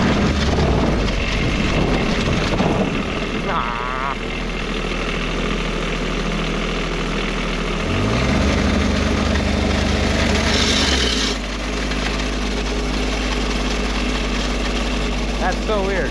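A custom diesel engine fitted to a Power Wheels ride-on toy idles with a loud, close, continuous rumble, its pitch and level shifting slightly a couple of times, with faint voices in the background.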